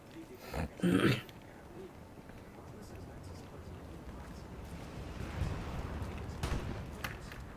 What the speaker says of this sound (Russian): Собаки дикие.